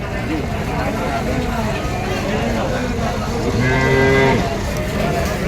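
Cattle at a livestock market give a loud, drawn-out moo near the end, rising over a steady crowd murmur and chatter, with other animal calls and voices mixing in the background.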